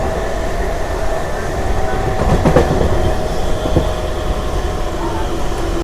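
A MEMU passenger train running on tracks in the rain between Renigunta and Kadapa, with a steady rumble of the carriage, rhythmic wheel clatter and occasional louder rail clicks heard from inside the coach.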